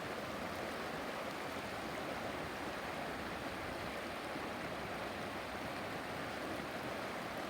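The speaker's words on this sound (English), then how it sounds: "I hear this running water" A river's running water rushes steadily beside a river house, a continuous, even wash of noise with no breaks or voices.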